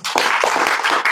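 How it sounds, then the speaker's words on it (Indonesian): Short burst of audience applause at a talk show, dense, steady clapping from a crowd, loud and close, with no voices over it. "Tepuk tangan untuk mereka"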